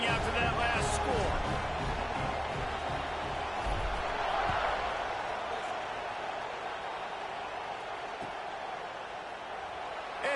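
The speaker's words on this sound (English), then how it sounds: "this crowd is buzzing after that last score" A stadium crowd in a Madden football video game makes a continuous, dense, even roar, under a commentator's steady talk.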